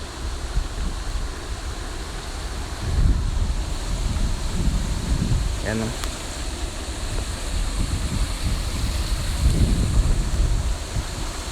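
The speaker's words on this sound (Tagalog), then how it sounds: "Lakas ng tubig." Rushing floodwater overflowing a rice field during a storm roars in a steady broadband wash, mixed with gusting wind buffeting the microphone, with a brief voice in the middle.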